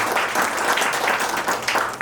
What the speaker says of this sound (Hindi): मैं चाहूंगा जोरदार तालियां हो जाए एक बार प्रगति 2025 के लिए।